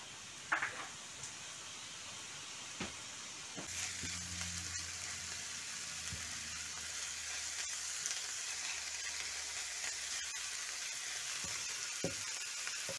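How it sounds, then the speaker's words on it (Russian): Chopped onion frying in a pan, a steady, close sizzle that builds after a few early clicks and keeps going evenly to the end. "Так, лучок мы обжарили."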